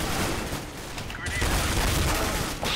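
Rapid P90 submachine gun bursts in Counter-Strike: Global Offensive, a continuous stuttering rattle of gunfire filling the clip with a few louder swells, mixed with game noise.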